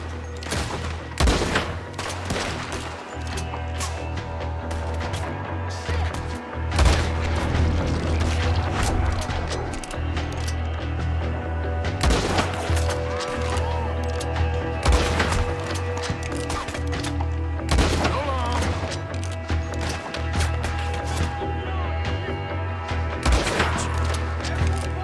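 Gunfire in the Red Dead Redemption 2 game, a dense running fusillade of sharp shots and booms over a continuous loud battle din, with occasional hoofbeats and a faint voice in the mix.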